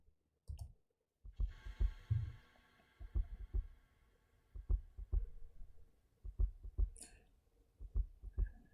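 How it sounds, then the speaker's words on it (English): A heartbeat motif in a track from the Made in Abyss soundtrack: regular paired low thumps repeating steadily and fairly close, with a sustained eerie drone and occasional higher tones above them. "That heartbeat is stress-inducing."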